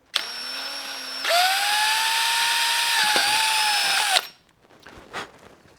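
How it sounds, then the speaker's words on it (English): A power drill runs in one long, loud, close burst with a shifting motor whine while drilling a hole in a Honda Grom panel, then stops, followed by faint handling sounds. "I'll drill this other hole"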